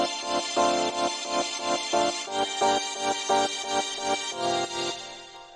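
A Sonatina Violins plugin with effects, pumping with sidechain alongside another instrument in a major-feel track, plays a bright layered chord pattern in rapid rhythmic swells, about two pulses per second, loud and steady throughout.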